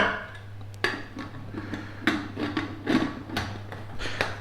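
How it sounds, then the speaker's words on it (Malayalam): A metal pressure cooker lid clanks and scrapes into place while beef dum biryani is cooked in a Kerala kitchen, a handful of sharp metallic knocks and rubs over a steady low hum. "കുക്കർ നമുക്ക് അടച്ചു വെക്കാം"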